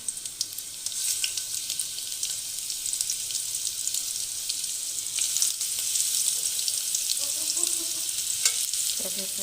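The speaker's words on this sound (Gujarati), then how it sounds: "હવે તેલ ગરમ થઈ ગયું છે લસણને નાખી દઈએ" Garlic fries in hot oil with a bright, continuous crackling sizzle that grows busier over several seconds, joined near the end by a few light stirring clinks, close by and without speech.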